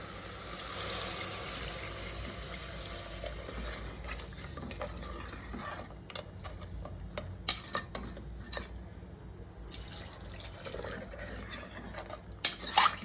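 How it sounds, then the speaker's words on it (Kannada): Water poured into a cooking pot of crab soup with softened tomatoes, a steady splashing wash with clinks of a utensil against the pot and stirring noises, close and moderately loud, no talk. "ಇವಾಗ ನಾನು ವಾಟರ್ ಆ್ಯಡ್ ಮಾಡ್ತೀನಿ."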